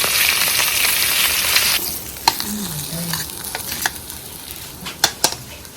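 Saluyot and bamboo shoot soup with tilapia boils in a pot, a steady bubbling hiss for a couple of seconds, then quieter simmering broken by scattered sharp clicks of a utensil against the pot.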